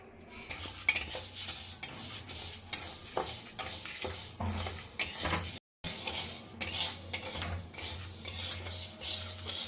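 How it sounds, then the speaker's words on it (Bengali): Moong dal roasting with two bay leaves in a pan: constant scraping and stirring of a spatula against metal over a dry crackle, nearby and steady, with one brief gap. "মুগ ডালটা ভেজে নেব। দিয়ে দিচ্ছি দুটো তেজপাতা।"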